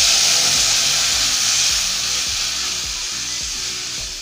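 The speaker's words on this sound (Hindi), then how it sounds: "इसमें हम अपना ये जो घोल बनाए थे बेसन का इसको डाल देंगे" Gram flour batter poured into a hot mustard-seed tempering for a vegetable curry, giving a loud, steady hiss and sizzle that fades slightly as it continues.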